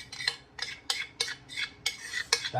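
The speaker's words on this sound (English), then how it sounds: "in the bowl, you just take a spoon, just evenly spread it up top" A spoon scraping and spreading a protein topping left in a bowl, six or seven rhythmic close strokes with clinks against the bowl, no talking.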